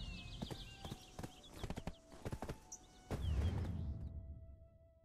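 Horse hooves clip-clopping in Black Desert, a steady run of sharp, evenly spaced hoofbeats over game ambience, with a louder rumbling burst near the end.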